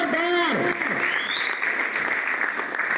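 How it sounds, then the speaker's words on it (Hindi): Loud applause from an audience at a company presentation event for Microd Digital, dense steady clapping filling the whole stretch, with a shouted voice at the very start. "एक बार जोरदार तालियां मार दे"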